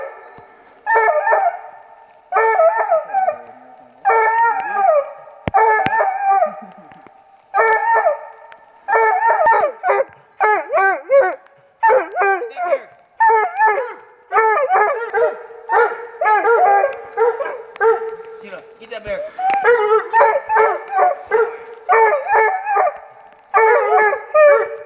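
Hunting dogs, including young pups, bay and howl at a black bear treed in British Columbia forest, a continuous chorus of overlapping howls and yips in rhythmic bursts, loud and close throughout.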